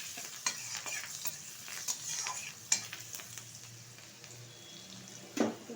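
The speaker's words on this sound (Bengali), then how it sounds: "এখন দিয়ে দেব থেতো করে রাখা কিছুটা রসুন, হালকা একটু ভেজে নেব" Crushed garlic fries in hot white oil with turmeric powder for a Bengali water spinach (kalmi shak) stir-fry, giving a steady soft sizzle broken by scraping stir strokes and a sharper clack near the end, with no talk.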